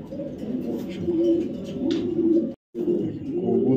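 Racing pigeons of a Maxi racer pair coo close by in a steady, low rolling murmur that keeps on with brief pauses, including a short gap of silence near the end, with no talk over it.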